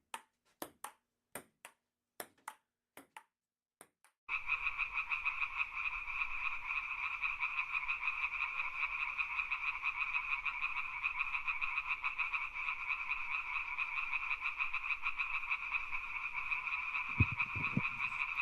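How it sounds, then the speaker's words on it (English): Frogs croak in a sustained, steady chorus inside a ballpark booth, following several sharp, evenly spaced clicks or pings at the start, with a brief low thump near the end. "Pet frogs in the booth."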